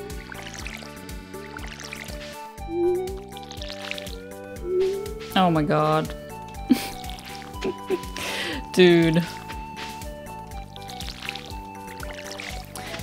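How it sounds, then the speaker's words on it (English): Crops being watered in Stardew Valley 1.6 in summer: soft repeated splashy, drippy pours over steady background game music, with a person talking at times. "Let's get water in!"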